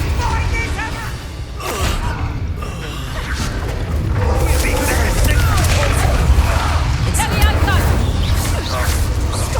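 An Expelliarmus spell is cast in Hogwarts Legacy combat, a loud, dense layer of magical whooshes, booms and clattering effects over continuous game noise, with voices mixed in.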